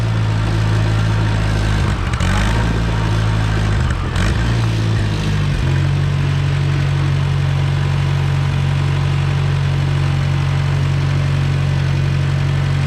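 A Farmall Cub tractor engine runs loud and close, stumbling and sputtering unevenly through the first few seconds before settling into a steady low idle.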